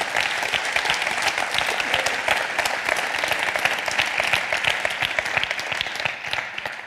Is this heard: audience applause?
yes